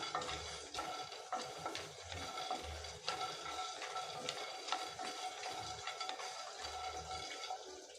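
Eggplant dry-roasting in a pan without oil, stirred with a spoon that scrapes and knocks in an irregular rhythm over a low continuous hiss, close and quiet, no talking.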